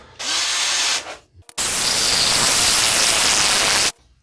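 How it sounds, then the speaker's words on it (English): A power drill with a 1/4 inch concrete bit whines into concrete in two bursts, a short one and then a longer steady grind, loud and close, stopping abruptly. "I just have a 1/4 inch concrete drill"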